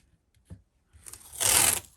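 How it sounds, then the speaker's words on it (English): Masking tape is pulled off the roll and pressed over a guitar truss rod in a workshop, a short ripping crackle after a couple of faint taps. "I'll just put some masking tape over the truss rod"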